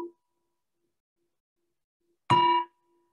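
A meditation bell is struck once in the quiet, a bright ringing tone that stops fairly quickly, preceded by a faint trace of an earlier tone.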